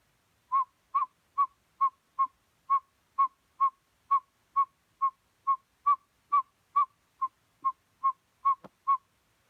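A person whistling an imitation of a northern saw-whet owl call: a steady series of about twenty short, evenly spaced tooting notes at one pitch, clear and close, alone without talk.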